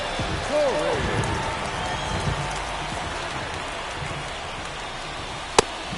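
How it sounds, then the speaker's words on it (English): Steady rain patters over a baseball game in the video game MLB The Show 24, with a constant wash of drops, a few low bounces and a sharp knock near the end; a crowd murmur sits underneath. "It feels like we might be headed towards a rain delay if the weather doesn't ease up, Chris."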